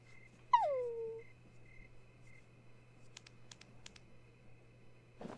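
A dog in the horror game Yomawari: Midnight Shadows gives a single falling whine, followed by quiet clicks and faint ticking over a low steady hum, with no talk.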